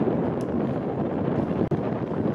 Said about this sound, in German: Aber es weht nur noch mit 4 Beaufort, also bestes Segelwetter.